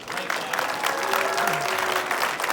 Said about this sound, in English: give a big round of applause to everybody up here on this stage